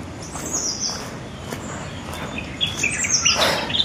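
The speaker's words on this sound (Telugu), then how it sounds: "పక్షులు కిలకిల రావాలైతే వినపడుతున్నాయా?" Birds chirp and tweet in a dense forest, a scatter of high, thin calls over steady rustling background noise, some near and some farther off, growing busier toward the end.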